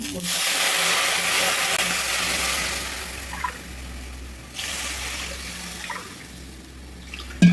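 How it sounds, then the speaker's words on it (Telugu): Three cups of water pour into a pan in a loud gushing stream for several seconds, then fade to a quieter bubbling, followed by a short clatter near the end. "చూడండి మూడు కప్పులు వాటర్ అయితే పోసాను"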